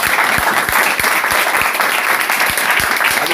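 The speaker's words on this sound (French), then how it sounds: "Applaudissons donc pour lui alors." A church congregation applauds loudly and steadily, a dense crowd of clapping hands with some sharper rhythmic claps standing out, close and continuous throughout.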